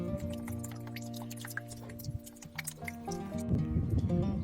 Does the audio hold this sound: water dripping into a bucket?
yes